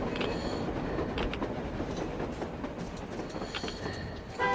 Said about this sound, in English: Looks like they're chasing that train too.